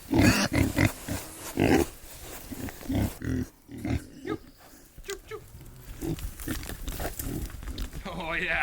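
Young island pigs grunt and oink in short, loud bursts early on, then quieter snuffling follows while someone talks to them.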